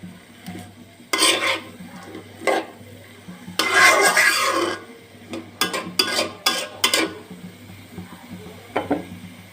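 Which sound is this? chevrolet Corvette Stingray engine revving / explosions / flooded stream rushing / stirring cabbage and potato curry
stirring cabbage and potato curry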